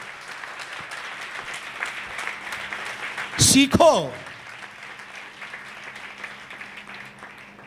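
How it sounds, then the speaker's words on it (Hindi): A church congregation claps hands during a Sunday service, a dense burst of applause lasting under a second amid ongoing speech and a steady background hum. "ताली बजाकर प्रभु को महिमा दें, जोर से बजाएं प्रभु के लिए।"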